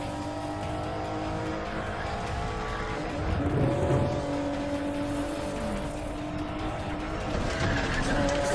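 Race cars in a night checkpoint race in the video game The Run, engines droning and revving with tire squeal and skidding swelling midway, loud and continuous game audio.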